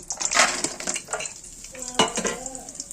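Cashews, raisins, almonds, cardamom and cloves fry in ghee in a pan, with a busy crackling sizzle broken by scraping, stirring and the clink of a utensil against the pan, no talking.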